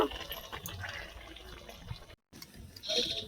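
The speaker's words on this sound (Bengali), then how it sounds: "কচুটা দেখুন কতটা জল ঝরছে।" Water drains and trickles out of boiled taro tipped into a basket over a bowl, a soft, uneven splashing and dripping heard close and fairly quiet.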